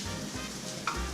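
Steady sizzling of sweet plantains (maduros) frying in a pan, a continuous crackling hiss with a brief clink partway through.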